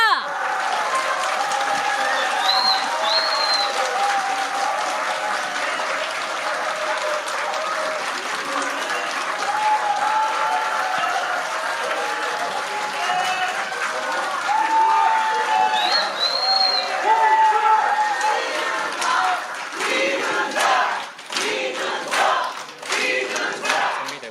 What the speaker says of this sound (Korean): 여러분 더 큰 박수와 함성을 주시면 감사하겠습니다.